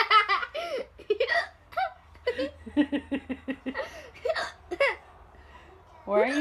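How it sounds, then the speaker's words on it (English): A young child hiccups repeatedly between bursts of giggling and laughter, close and fairly loud, with the hiccups and laughs coming in short, uneven bursts throughout. "Because of my hiccups."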